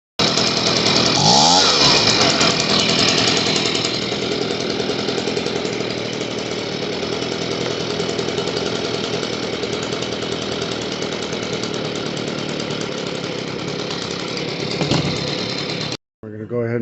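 A Stihl BG 55 leaf blower's small two-stroke engine runs steadily close to the mic after a carburetor repair and idle adjustment, a continuous buzzing drone that briefly rises near the start, then cuts off abruptly at the end.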